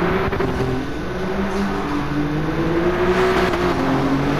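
Alfa Romeo Giulia GTAm with a 2.9-litre 24-valve V6 biturbo engine in Gran Turismo 7, a steady droning engine tone holding a fairly constant pitch, loud and continuous with slight rises.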